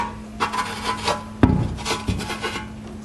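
Rasping, scraping strokes as sludge is scraped off a part of a VW Gol G5 1.0 8V Flex EA111 engine, with repeated close scrapes and one sharp knock midway.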